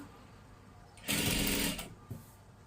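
A sewing machine stitching the round neck of a salwar top, one close, steady mechanical whirr lasting under a second amid quiet room tone, then a short second burst.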